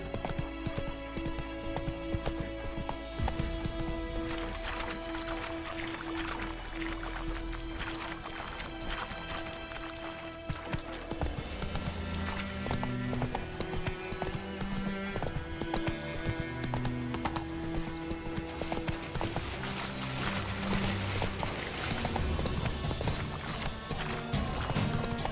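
Roach the horse trots in The Witcher 3 with a continuous, rhythmic clip-clop of hooves, steady and fairly close, layered over background game music throughout.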